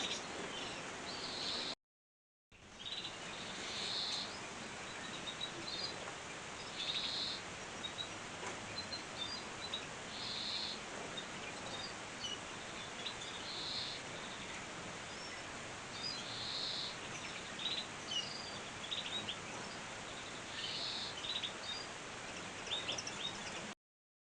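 Small softbill birds chirp faintly and repeatedly in a birdroom, short high tweets scattered over a soft hiss, with a brief silent gap near the start.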